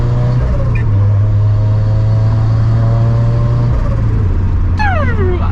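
A Toyota FRS with a GReddy turbo idles and revs loudly up close, its open dump exhaust giving a deep rumble, with a sharp whooshing blow-off near the end.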